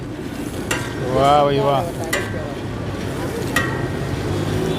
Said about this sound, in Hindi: भुनाई हो रही है इस वक्त, मूंगफली की भुनाई पूरा भर दिया है